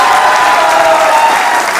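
Loud, dense applause from an audience at a motivational talk, steady and sustained throughout with no pauses and no voices breaking through.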